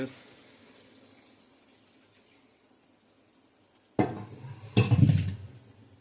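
After a quiet stretch, water is poured with a sudden loud splash into a pot of chicken biryani, continuing for a couple of seconds.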